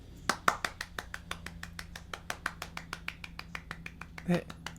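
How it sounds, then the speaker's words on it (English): Hand claps from a person at a tabletop game session, a steady run of about two dozen sharp, evenly spaced claps, slow and measured, with talk faintly underneath. "her clapping seems a little sarcastic"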